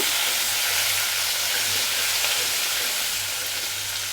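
Onion, green chili, curry leaves and tomato fry together in hot oil, a loud, dense, continuous sizzle with a faint low hum beneath it.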